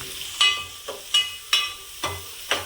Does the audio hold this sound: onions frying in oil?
yes